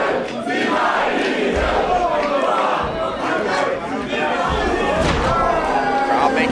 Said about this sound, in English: Crowd making their feelings very clear.